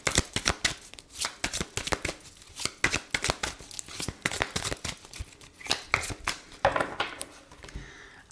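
Oracle cards shuffled by hand during a card reading, with a steady run of quick, crisp riffling snaps and soft papery slaps, close and fairly loud, with no talk.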